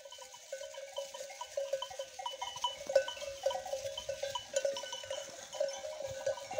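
Mixed herd of sheep and goats on a mountainside, with bells clinking and tinkling repeatedly at a gentle, irregular rhythm, faint and some distance away, with scattered shuffling and no talk.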